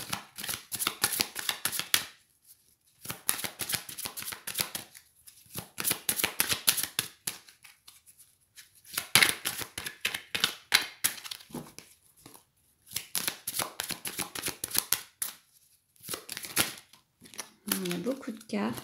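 A large deck of oracle cards is shuffled over and over in bursts of dry riffling and rustling, each lasting a few seconds with short gaps between. A voice can be heard faintly at times.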